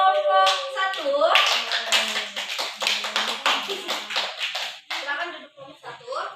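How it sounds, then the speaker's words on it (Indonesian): A classroom of students breaks into rhythmic clapping for a student group, a burst of sharp, fairly close claps following a teacher's spoken words, with voices at the start and end. "Kita beri tepuk tangan dulu untuk kelompok 1."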